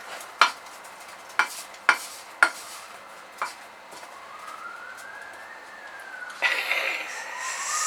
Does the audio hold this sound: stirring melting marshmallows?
yes